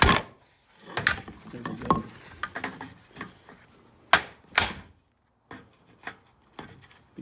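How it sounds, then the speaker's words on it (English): Wood block repeatedly struck against the corners of a sliding screen door frame to knock them out, giving sharp irregular knocks, some loud and close, with a short spoken phrase among them. "now I'm knocking out the corners with a piece of block of wood"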